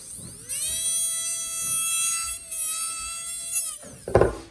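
A dental lab handpiece spins up to a steady high-pitched whine while trimming a denture tooth, holding for a few seconds with slight dips under load before cutting off, followed by a brief clatter.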